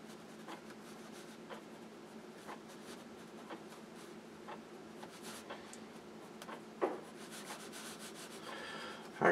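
A pencil fitted with an extender drawing on paper, a soft close scratching that keeps going steadily, with light repeated strokes and a couple of firmer marks near the end.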